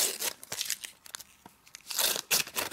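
A foil packet of Topps Bundesliga 2013/14 stickers is ripped open by hand, with bursts of crisp tearing and crinkling up close, brief quieter gaps between the rips.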